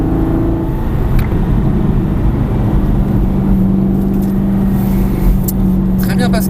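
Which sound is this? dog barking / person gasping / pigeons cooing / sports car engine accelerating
sports car engine accelerating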